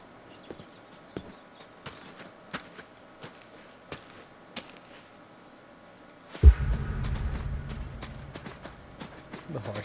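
Horse hooves clip-clop in an indie video game, a steady series of sharp, evenly spaced hoof knocks at moderate distance, followed by a louder rumbling burst of game noise near the end.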